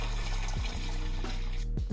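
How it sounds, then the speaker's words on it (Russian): Starch noodles for Dungan funchoza are poured into ice water, a loud, close, sloshing pour of liquid with a few gurgling swells, running steadily with no talking. "Then into ice water."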